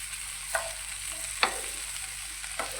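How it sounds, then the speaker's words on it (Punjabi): Okra frying in oil in a pan over a medium flame while it is stirred, a steady close sizzle broken by three distinct scraping spatula strokes, with no talking. "ਤੇ ਇਸ ਤਰੀਕੇ ਨਾਲ ਜੀ ਆਪਾਂ ਸਾਰੀਆਂ ਭਿੰਡੀਆਂ ਨੂੰ ਚੰਗੀ ਤਰ੍ਹਾਂ ਹਿਲਾ ਲਿਆ"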